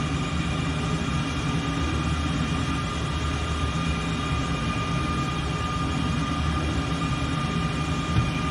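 Heatblur F-14 Tomcat jet engine spooling up during start in a flight simulator, a steady whining drone with a low rumble beneath, continuous and without pauses.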